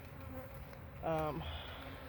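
Honey bees buzzing around an open hive, a steady low hum with one nearer bee droning louder past for a moment in the middle.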